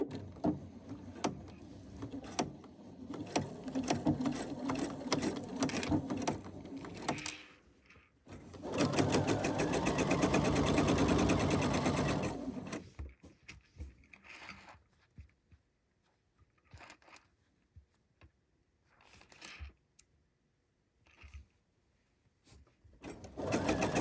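A sewing machine stitches the crown sections of a welder's cap together, running in a few bursts with one long steady whir in the middle, then falling to scattered short clicks and pauses.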